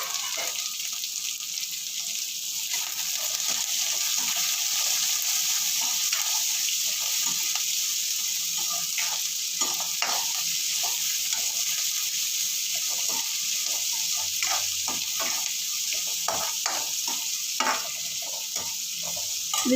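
Onion, green chilli and curry leaves frying in oil, a continuous hiss and sizzle close up, punctuated by repeated scraping taps of a spoon stirring the pan.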